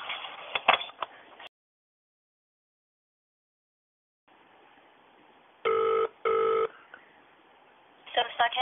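A telephone line after a call is placed: two long ringback tones sound in a row, and brief bursts of telephone-line voices or noise come before and after them.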